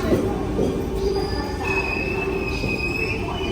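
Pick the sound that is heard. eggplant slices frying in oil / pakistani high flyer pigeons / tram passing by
tram passing by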